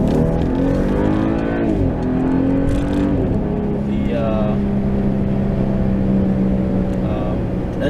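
A 2016 BMW X5 engine held at high revs in sport mode, a steady droning tone heard from inside the cabin while driving, with someone talking over it.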